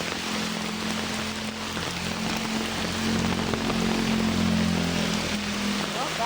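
Steady heavy rain drums on surfaces with a low engine-like hum underneath, swelling slightly louder halfway through.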